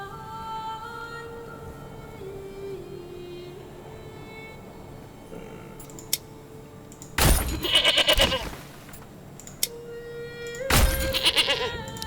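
Goats bleat in the farming video game Manor Lords: two loud, wavering bleats stand out clearly over a soft ambient music bed with sustained tones, plus a couple of faint clicks.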